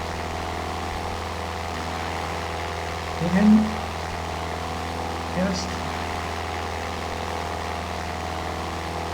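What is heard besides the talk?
Cessna propeller plane engine in Aerofly FS 4 flight simulator game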